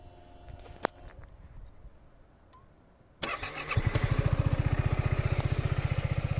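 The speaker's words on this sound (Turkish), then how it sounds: "İlk önce motorumuzu açalım." After a few faint clicks, a Yamaha XMAX 250 scooter engine cranks and fires, then settles into a loud, steady putt-putting idle.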